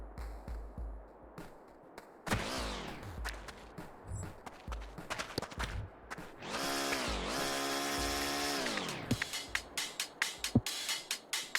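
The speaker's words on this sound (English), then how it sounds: "Probably shouldn't be using the drill against this guy, but I'm going to." An electric drill in the game Casualties: Unknown, used as a weapon against a shade crawler, whines in rising and falling motor bursts, one long sustained run in the middle, mixed with sharp thumps and footstep-like knocks.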